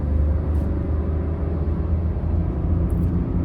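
The engine of a 2024 Maruti Dzire car pulls after a downshift to third gear, a steady, loud, low rumble with a constant drone heard from inside the cabin and no voices.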